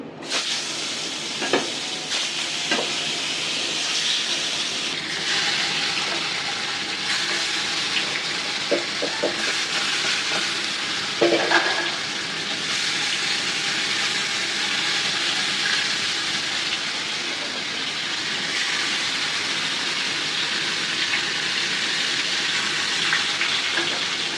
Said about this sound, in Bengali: আমি এখন ইলিশ মাছ ভাজবো।